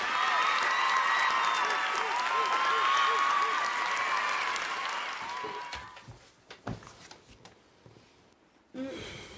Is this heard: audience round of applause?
yes